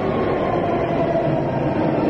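A London Underground train rolls along in a steady, loud, close rumble that fills the whole moment without a break.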